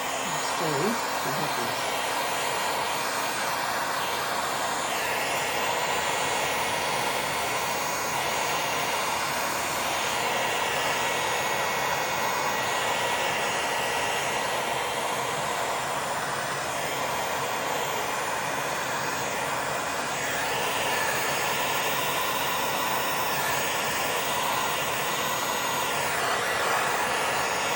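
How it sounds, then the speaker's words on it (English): A heat gun blows hot air over a multi-layer resin pour, making a loud, steady, close-up roar that runs without a break for nearly half a minute, with one brief spoken word at the start. "I'll just hit it with the heat gun."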